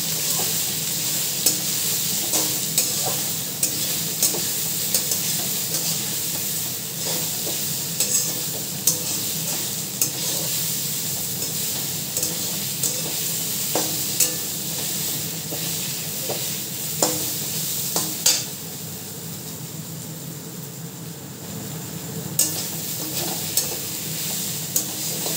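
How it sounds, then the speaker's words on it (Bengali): Grated coconut fries lightly in a pan for a vegetarian taro-leaf dish, giving a soft continuous sizzle broken by frequent scraping stirs of a spatula, with no talking. "আমি এবার এগুলো হালকা করে ভেজে নেব।"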